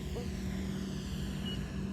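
An E-Flite Super Timber 1.7m RC plane takes off with a steady, loud propeller and electric motor drone, outdoors against wind rumble.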